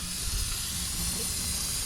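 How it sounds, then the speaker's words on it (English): A can of brake cleaner sprays with a steady, close hiss, a continuous airy rush while working on a 2000 Jeep Cherokee engine. "We're going to empty some cans of brake clean in here, get it all nice and cleaned up."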